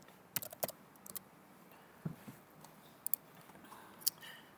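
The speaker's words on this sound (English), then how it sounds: "I'm just going to type in concrete" Quiet typing on a computer keyboard: a few short bursts of crisp key clicks with pauses between them, close and fairly soft.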